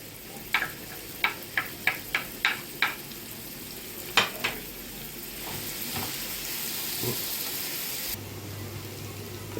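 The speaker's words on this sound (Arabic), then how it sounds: "نزلنا بسمن وزيت سخنوا، هننزل عليهم بالبصل المبشور، بصلتين مبشورين" Grated onions frying in hot ghee and oil, a steady hiss under a run of sharp, evenly spaced taps and scrapes from a utensil in the pan, then a calmer sizzle.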